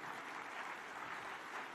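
An audience at the Connected Africa Summit claps after the opening speech by His Excellency, a short, even burst of many hands heard from a distance, fairly quiet and with no talking.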